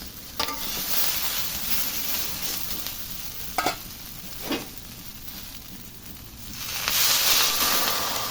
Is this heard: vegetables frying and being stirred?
yes